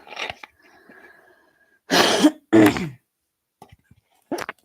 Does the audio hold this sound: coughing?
yes